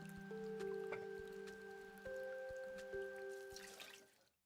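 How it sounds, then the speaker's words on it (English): Water drips in slow, regular drops within the video game Omori, sounding over a steady hum of game music and fading out at the end. "Ew, I don't like the water sound there."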